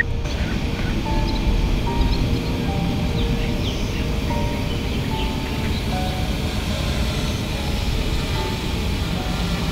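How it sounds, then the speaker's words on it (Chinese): A small camera drone flies back toward its operator over an abandoned temple site, giving a steady, continuous whirring hum of moderate loudness with no pauses. "好了，我要让飞机回来了。"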